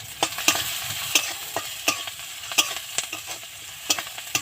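Onions lightly frying in a pan with a pinch of salt for a Bengali gourd seed bhorta, giving a steady soft sizzle broken by repeated sharp scrape-and-clink stirring strokes at irregular intervals, close by with no talking.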